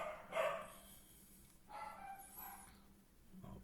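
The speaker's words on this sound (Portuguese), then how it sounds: "Os meus cachorrinhos estão fazendo barulho." Small dogs bark faintly somewhere in a home, a few short yappy bursts separated by quiet gaps, heard at a distance.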